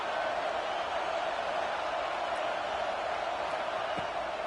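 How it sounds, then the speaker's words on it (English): A college football stadium crowd roars on third down as a constant, dense wash of noise that holds at an even level throughout without breaks. "Listen to this crowd just shaking the girders of this place, trying to help their defense."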